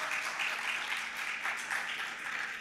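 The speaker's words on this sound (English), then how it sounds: "Oh, these applause have started to die down." Applause from a conference audience fills the clip: a dense, steady wash of many hands clapping, loud and continuous throughout, with no voices over it.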